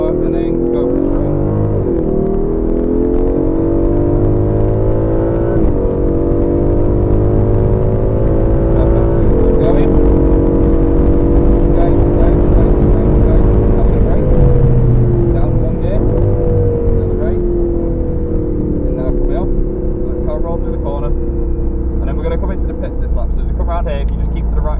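A 2020 Aston Martin V8 Vantage accelerating on Silverstone's International Circuit, loud onboard engine drone rising through the gears with steady pitch sweeps, continuous and close throughout.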